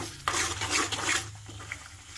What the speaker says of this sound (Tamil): இது அப்படியே ஒரு பத்து நிமிஷம் நல்லா கிளறி விடலாம்